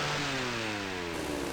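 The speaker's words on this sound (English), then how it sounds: "It's very much a chainsaw." A chainsaw in the horror video game Cry of Fear revs with a steady, loud mechanical drone whose pitch sweeps slightly downward over a brief moment, heard alone without any talk.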